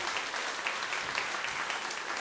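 Concert audience applause, a dense, even wash of many hands clapping at moderate distance with no voices over it.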